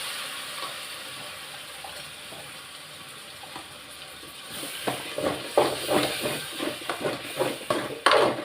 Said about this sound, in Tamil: நம்ம அரைச்சி வச்ச தக்காளியை போட்டுக்கிடுவோம்.